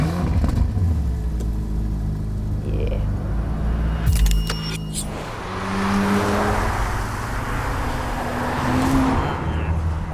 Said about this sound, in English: What you're hearing is the magic ingredient to any Ferrari GT, a V8.